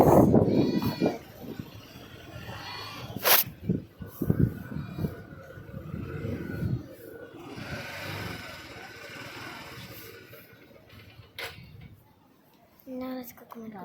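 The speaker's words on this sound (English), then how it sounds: "And the goat is saying hello to us." Several goats bleating near a roadside in Dharamshala alongside cows, with a few close calls early on and more scattered bleats later, mixed with people talking and occasional vehicle noise.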